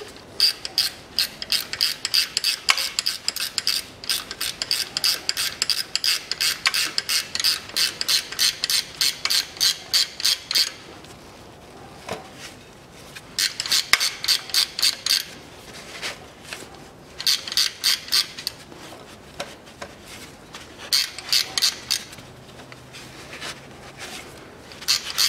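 Ratchet wrench clicking in rapid bursts while tightening a nut during timing belt replacement on a 2010 Kia Rio 1.4, loud and close with short pauses between runs of clicks.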